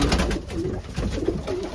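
Racing pigeons in a loft coo softly and close by, a few low rolling calls in quick succession.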